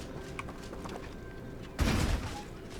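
Hogwarts Legacy spell-casting combat: a soft run of small crackles gives way to a sudden loud whooshing blast near the end, a broadband burst of magical impact that decays over about half a second.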